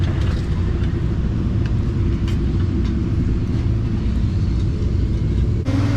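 An RC race car with a camera mounted on top heads out on track to qualify, giving a continuous close rumbling motor and road roar that stays steady for several seconds, then shifts briefly near the end.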